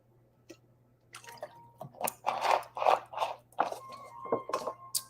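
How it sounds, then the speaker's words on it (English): Someone takes several sips from a bottle of Kaqun water, with soft wet gulps, swallows and small liquid clicks that come close and fairly quiet, in irregular bursts over a low steady hum. "Let me take some of my water."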